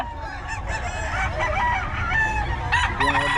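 Rooster crowing repeatedly at close range among other fowl at a Filipino gamefowl seller's yard, with layered crows and clucks over a steady busy background.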